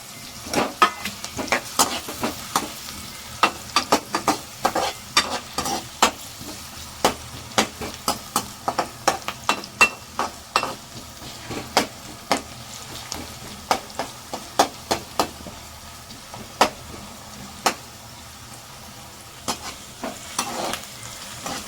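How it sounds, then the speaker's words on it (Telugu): Sliced onions and green chillies fry in a pan as they brown, giving a continuous low sizzle broken by frequent sharp spatula clicks and scrapes in an uneven rhythm, close up and with no talking. "ఆనియన్స్ బాగా వేగనివ్వాలి. బ్రౌన్ కలర్ వచ్చే వరకు ఒక 5 మినిట్స్ వరకు."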